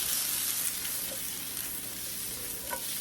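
A pan sizzles steadily on the stove, a continuous hissing crackle with occasional small pops, close by and fairly quiet.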